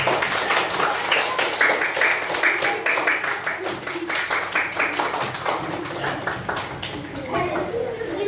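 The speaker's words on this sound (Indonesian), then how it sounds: "Nah, kasih tepuk tangan" A class of students claps hands together in a classroom during a teaching practice lesson, with fast, dense, steady clapping over the whole stretch and voices chattering underneath.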